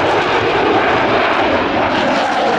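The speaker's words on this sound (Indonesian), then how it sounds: "Kalau yang ini pesawat tempur" An SU-27 fighter jet flies past with a steady, loud, unbroken engine roar that fills the whole short stretch, with no voices over it.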